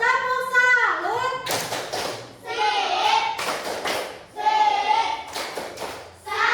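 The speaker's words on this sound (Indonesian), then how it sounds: "Nah, sekarang kita beri tepuk salut." A primary-school class doing a rhythmic 'tepuk salut' clapping routine, sharp bursts of many hands clapping in a set pattern mixed with children chanting in unison and a teacher's voice leading.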